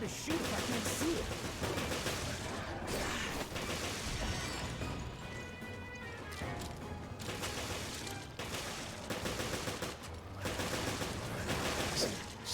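Rapid gunfire in Resident Evil: Revelations, loud and dense, bursting repeatedly over a constant game soundtrack and effects.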